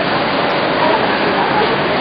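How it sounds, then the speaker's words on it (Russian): Sea waves wash continuously as a broad, steady roar from a nearby shore, loud and even throughout with no clear breaks. "Море."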